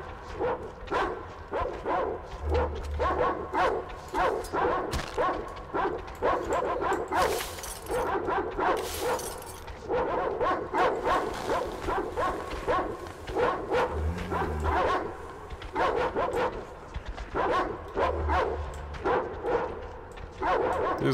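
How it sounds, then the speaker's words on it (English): Dogs barking in the video game Metro Exodus, repeated loud yaps and barks in an irregular stream with some whimpering, several animals close by and sounding continuously throughout. "These dogs are really, really loud."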